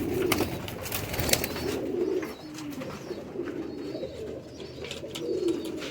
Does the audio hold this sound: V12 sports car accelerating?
no